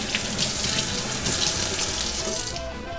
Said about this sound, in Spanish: Puedo las lavar, pasar por agua.